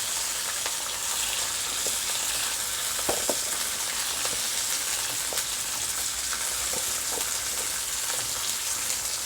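Garlic and onion frying in oil for mutton kheema vadai, a soft, even crackling sizzle that holds steady throughout, with a few faint spoon taps.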